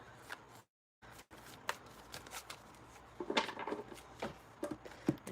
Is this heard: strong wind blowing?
no